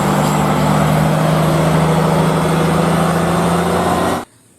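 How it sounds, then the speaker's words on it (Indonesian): A toy cement mixer truck gives a steady, loud, buzzy engine drone that runs unbroken for about four seconds and then cuts off abruptly, with no talking. "Di sini ada truk molen."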